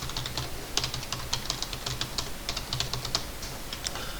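Rapid keystrokes on a computer keyboard as commands are typed into AutoCAD: a steady run of close, crisp clicks with small pauses, no voices.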